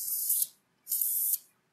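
Two short hissing bursts of spray are aimed onto an enamel piece, each about half a second long with a brief pause between, close and fairly quiet.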